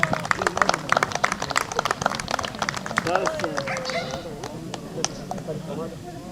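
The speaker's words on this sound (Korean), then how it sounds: "박수 주세요" Audience applause at a Jindo dog training demonstration at a police dog training school, a dense burst of claps early that thins toward the end, with someone talking over it.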